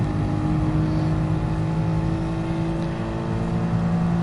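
An F1 safety car engine runs at Catalunya in a racing video game, giving a steady, loud drone with a constant engine tone that holds throughout, with no talk over it.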